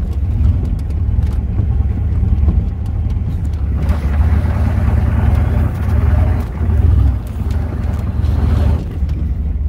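A Chevrolet 6.5L truck drives over tall grass hiding farm harrows, giving a continuous loud engine drone with wind buffeting and surging bumps from the rough ground.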